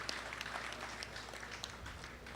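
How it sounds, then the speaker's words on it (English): An audience applauds the organizers at an evening tribute event for a former prime minister of Trinidad and Tobago: dense, steady clapping from a crowd, fairly distant and continuous, with no voices standing out. "a round of applause for thinking of this here tonight"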